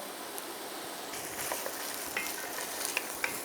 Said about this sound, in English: we're gonna let this saute for about 6 to 8 minutes, just till it starts softening up